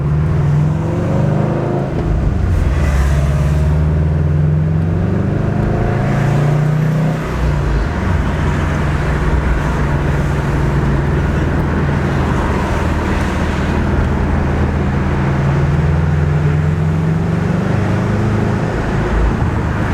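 A 2011 Subaru STI with a freshly installed engine drives along, its engine droning steadily and loudly throughout with rising and falling tones and road noise, no talking.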